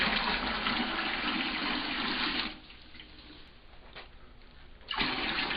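Clean water pours into a container for brewing tea, a steady rushing splash that drops to a quieter trickle, then surges loud again near the end, with no talk.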